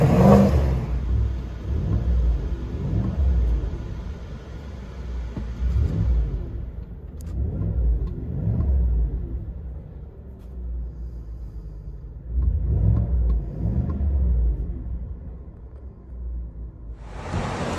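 Deep exhaust rumble from a 2020 GMC Sierra AT4 6.2L V8 with Borla Touring dual exhaust, heard from inside the cabin, swelling with several revs and acceleration pulls, then settling into a low idle drone.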